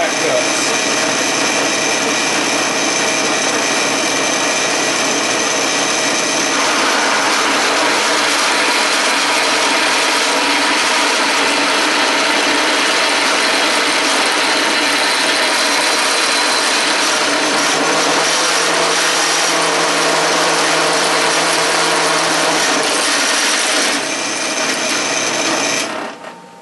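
A freshly sharpened 9/16 inch drill bit boring under power, a loud continuous machine whine and grinding cut that holds steady for nearly half a minute before winding down at the end.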